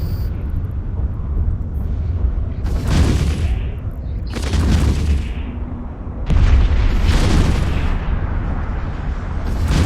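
Repeated heavy explosions from an outpost being destroyed in the space game EVE Online: three loud, rumbling booms come in quick succession, each with a long roaring tail over a steady low drone.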